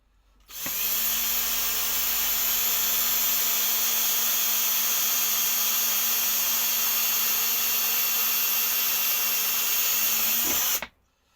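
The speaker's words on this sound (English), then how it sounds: "I'm just going to drill a couple of holes in here." A power drill with a blunt bit bores holes into a bottle, its motor starting abruptly and holding one loud, steady high whine for about ten seconds before cutting off sharply.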